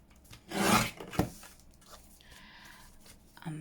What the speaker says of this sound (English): I'm going to get the trimmer and I'm going to cut this